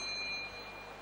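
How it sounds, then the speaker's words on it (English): A warning chime marks answer time at the Miss Earth 2010 beauty pageant: a thin, high ringing tone that holds briefly, then fades over about a second, with no talk. "After 30 seconds, you'll hear this chime."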